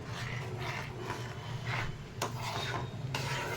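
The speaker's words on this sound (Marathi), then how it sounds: "मीठ टाकल्यानंतर हलवून घेते" A spoon scrapes and stirs through a thick paneer curry in a pot after salt is added, steady rasping strokes with a few sharp clinks against the metal.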